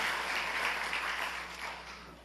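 Scattered applause from a church congregation for a choir, a soft continuous patter of clapping that gradually fades out toward the end.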